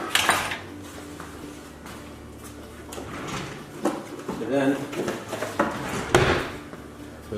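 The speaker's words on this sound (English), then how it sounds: "this is one of my old oven pans." A metal oven pan is pulled out and handled in a home kitchen, giving scattered clanks, scrapes and sliding knocks at moderate volume while a person talks over them.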